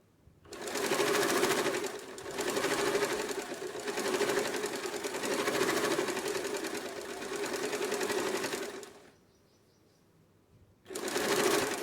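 An electric home sewing machine stitches fabric in close, loud runs of rapid mechanical whirring, several long bursts separated by short pauses, with a quiet gap before it starts again near the end.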